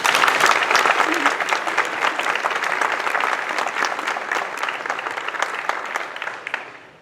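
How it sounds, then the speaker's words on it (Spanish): Conference audience applauds in a sustained burst of dense, steady clapping that stays loud for several seconds, then thins and fades out near the end, with some voices mixed into the crowd. "Un aplauso para Jorge."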